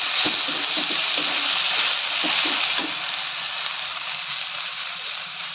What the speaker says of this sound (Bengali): এবার এটা কিছুক্ষণ ভেজে নেওয়া হবে।